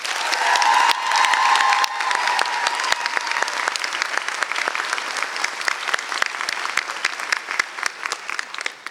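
A large commencement audience applauds professors at a CSU Chico master's graduation ceremony, a dense steady roar of many hands clapping that runs throughout, with a brief sustained tone near the start.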